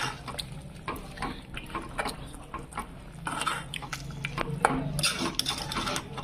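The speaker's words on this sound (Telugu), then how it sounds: "ఇప్పుడు దీన్ని కలపాలి చూడండి ఇలా మంచిగా కలుపుకోవాలి" Chicken curry is mixed in a pot, with steady wet stirring, spoon scrapes and metallic clinks against the pot, close up and continuous.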